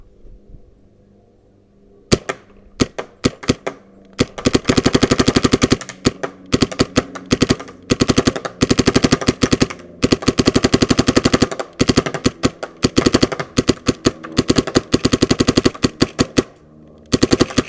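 Empire Axe paintball gun with a Planet Eclipse Shaft 4 barrel, Dye Rotor loader and Ninja 68/4500 tank, fired outdoors: after a quiet start, sharp close pops come in rapid bursts and strings, loud and alone.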